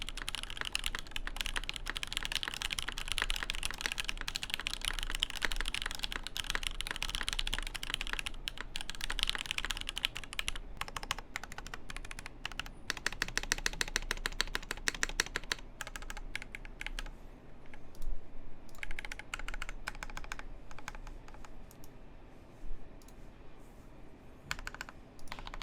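Steady typing on a KBD8X MKIII mechanical keyboard, quick clattering keystrokes close up and fairly quiet, with occasional brief pauses and no talking.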